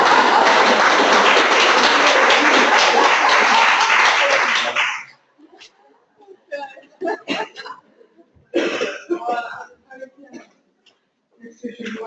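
An audience applauds at an evening lecture on endocrine disruptors, a dense, steady burst of clapping lasting about five seconds that then stops abruptly, followed by someone speaking with short pauses.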